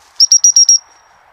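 A flushed snipe gives five quick, sharp, high calls in an even rhythm, loud and close, then the calls stop and only faint background is left.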